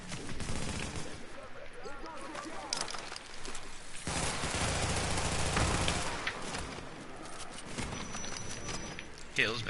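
Repeated gunshots hitting a player in a multiplayer shooter game, sharp cracks and rattling bursts scattered across the span, mixed with game effects and a player talking over them.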